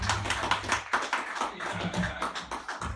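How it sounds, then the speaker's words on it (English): A small audience on a variety show gives a brief round of clapping, a quick patter of hand claps lasting a few seconds, fairly faint and uneven. "Another round of applause."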